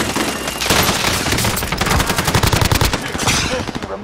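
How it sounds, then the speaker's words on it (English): Rapid automatic gunfire in the Call of Duty: Modern Warfare video game, loud and close, with dense rattling bursts running almost the whole time and a steady firing rhythm in the middle. "Somebody shooting us."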